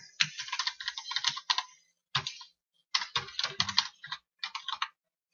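Computer keyboard being typed on while working in CorelDRAW X6, with close clicky bursts of keystrokes separated by brief pauses.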